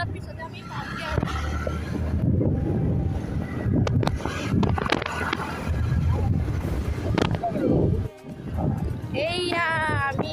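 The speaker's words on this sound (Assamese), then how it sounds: "বহুত ধুনীয়া বতাহ মাৰিছে" Wind blows at Nimati Ghat on the riverbank, buffeting the microphone with a low rumbling roar and gusty swells while people talk over it throughout.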